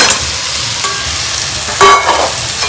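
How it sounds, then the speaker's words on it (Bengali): Crabs being sautéed in spice masala in a pan, giving a continuous sizzle with stirring scrapes and a louder burst of frying near the end, close and with no voices. "এটা দিয়ে আমি কিছুক্ষণ কষাবো মশলাগুলো কাঁকড়ার গায়ে ভালো করে লেগে যাবে"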